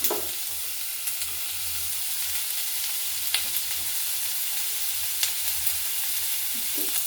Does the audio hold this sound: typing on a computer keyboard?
no